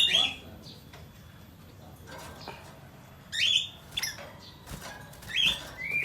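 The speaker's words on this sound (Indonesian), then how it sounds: "Ini burung bayeman." A bayeman songbird, kept as a master bird for songbird contests, sings several brief high chirping phrases at a moderate distance over faint background noise, with short pauses between bursts.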